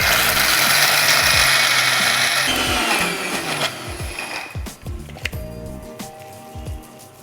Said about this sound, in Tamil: இதை இப்போ குறைன்னு அரைச்சிக்குவோம்.